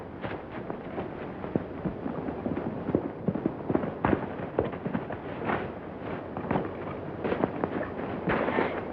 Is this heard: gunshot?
yes